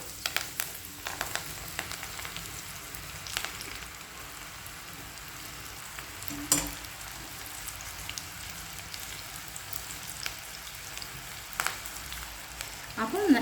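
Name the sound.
pakoda deep-frying in hot oil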